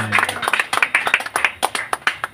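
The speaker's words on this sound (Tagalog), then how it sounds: "Yung malakas na palakpak, sabay sigaw." A church congregation claps loudly in a quick, insistent rhythm, sharp individual slaps clustering into a fast burst of applause that fills the room, with a voice briefly heard at the start.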